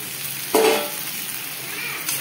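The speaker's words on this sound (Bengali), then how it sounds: "এবারে আমি চিকেনগুলো দিয়ে দেবো এর মধ্যে, যে ভেজে রেখেছি সেই চিকেনগুলো।" Fried chicken pieces dropped into a pan of cooked spice masala for butter chicken, a sudden sizzle burst and scraping stir, then a steady soft frying hiss, close and moderately quiet with no talking.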